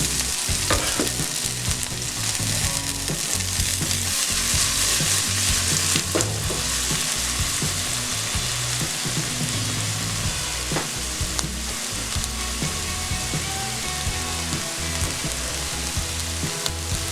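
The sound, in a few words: scallions and onions frying in a pan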